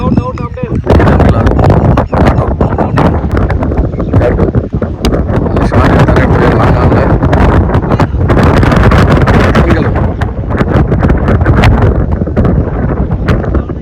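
Heavy wind buffets the microphone in a loud, continuous roar at an outdoor cricket tournament, with indistinct voices faintly underneath.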